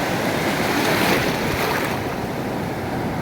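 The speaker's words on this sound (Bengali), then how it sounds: "বিশাল বিশাল ঢেউগুলো তেড়ে আসছে, তেড়ে আসছে।" Large ocean waves surge and crash onto the shore at Cox's Bazar. The roar is broad, loud and continuous, with a rushing swell that peaks and then eases into steady surf wash and wind noise.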